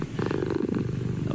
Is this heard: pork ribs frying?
no